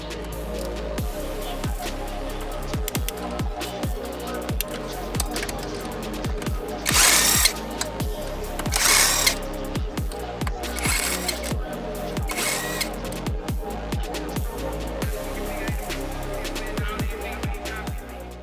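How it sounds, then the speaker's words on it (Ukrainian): Engine cylinder head bolts being loosened with a power drill/impact tool and a ratchet, a string of short buzzing tool bursts with sharp clicks, several louder whirring runs in the middle, close and with no talk. "йду зараз відкручую ГБЦ і подивлюсь, що там"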